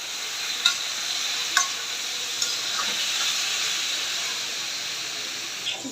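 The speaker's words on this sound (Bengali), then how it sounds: "কচুটা আমি নাড়াচাড়া দিয়ে দিব, একবারে ভাজা ভাজা করে নিই।" Taro pieces stirred and fried in a pan with onion and garlic paste for a rohu fish curry: a steady, close sizzling hiss broken by a few sharp scraping stirs.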